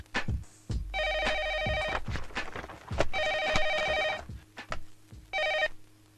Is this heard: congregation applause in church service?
no